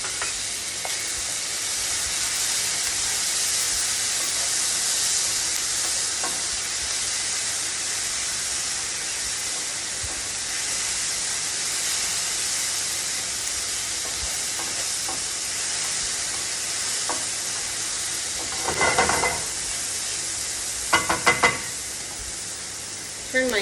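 Garlic frying in a pan with shallots and lemongrass gives a steady, loud hiss for most of the clip, with a few brief stirring scrapes near the end.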